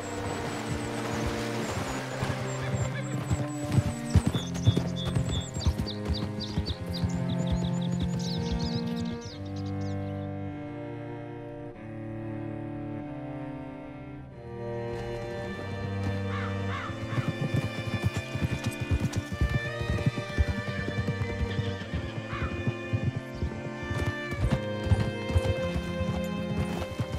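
Steady clip-clop of horse hooves in Red Dead Redemption 2, with an occasional whinny, running throughout under a loud, dense musical score.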